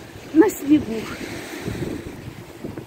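Outdoor wind on a sandy seashore during snowfall in Odessa, gusting and buffeting the microphone, with a low rushing roar and a couple of brief bursts under a speaking voice.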